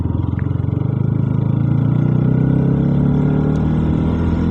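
A Bajaj Pulsar NS200 motorcycle ridden through traffic hums with a steady, loud engine drone that swells slightly midway and holds, close up and continuous without any talking.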